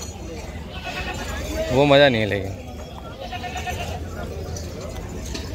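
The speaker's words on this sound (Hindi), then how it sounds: "यहाँ खिलाई पिलाइयाँ चल रही हैं इनकी बकरों की, बेहतरीन मस्त बकरों के लगा आ जाओ।" A goat gives one wavering bleat amid the crowded Jama Masjid goat market, with someone talking over steady market noise.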